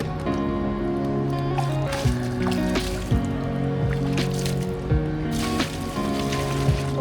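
Water running onto a fresh concrete house slab being wetted for curing, a continuous close splashing trickle with scattered drips over a steady low hum.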